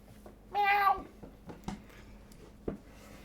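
A pet cat meows once, a short harmonic cry near and fairly loud, followed by faint bumps and small noises in a quiet room, with no talk during the call.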